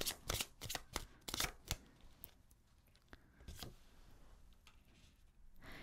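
Tarot cards shuffled and drawn at a reading table, a quick burst of riffling snaps up front, then scattered softer flicks and slides as individual cards are pulled, close and fairly quiet with no talk.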